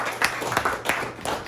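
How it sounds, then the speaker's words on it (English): A small audience at a tribute poetry reading in Woodstock, New York, gives a few scattered claps, sparse and uneven hand claps with quiet room sound between them. "let's have a round of applause for Raymond Foy"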